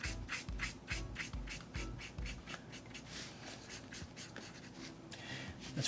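A marker fills in a caricature's hair on sketchbook paper with quick, repeated back-and-forth strokes, soft scratchy rubs in an uneven rhythm, close and quiet with no talking.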